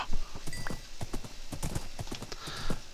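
Horse hooves clip-clop in the Minecraft video game, a quick, steady run of light hoof knocks with a faint whinny-like tone, fairly close and uninterrupted by talk.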